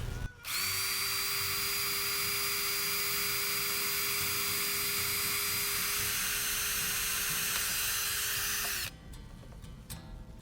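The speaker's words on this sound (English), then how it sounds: "I'm going to drill them out to 3/32." A power drill whines steadily at high speed for several seconds drilling holes out to 3/32 inch during an RV black tank repair, then cuts off abruptly, leaving quiet shop noise.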